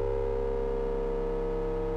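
Tones from a no-input mixing board, with separate feedback loops panned left and right and a centre loop run through an overdrive pedal. Several steady sustained tones hum together continuously with a low drone beneath and no voices.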